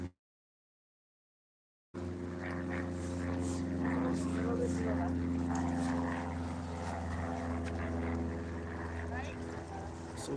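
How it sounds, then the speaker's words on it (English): A propeller airplane flying near Toronto's Billy Bishop Airport on the waterfront, a steady droning engine hum that holds at a constant level throughout, heard at moderate distance after a brief silence. "So we see another plane right there."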